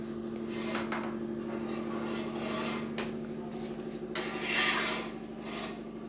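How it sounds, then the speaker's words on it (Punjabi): Garlic, ginger and green chillies with a little salt being crushed in a mortar with a pestle, giving a steady close grinding and rasping scrape that runs throughout with a few louder strokes. "ਕੁੰਡੇ ਦੇ ਵਿੱਚ ਮੈਂ ਲਸਣ ਅਦਰਕ ਅਤੇ ਹਰੀਆਂ ਮਿਰਚਾਂ ਪਾ ਲਈਆਂ ਪਹਿਲਾਂ"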